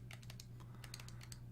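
Quiet, quick keystrokes on a computer keyboard, a run of light clicks in an uneven rhythm over a low steady hum, no voices.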